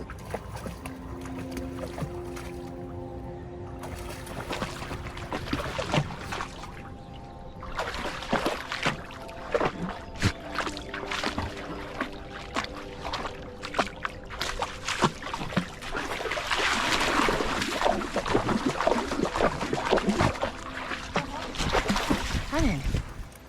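A boat being paddled on a river in the Verzasca Valley, Ticino, Switzerland, with soft watery sloshes and splashes at a quiet level, under people talking and an intermittent tonal hum early on.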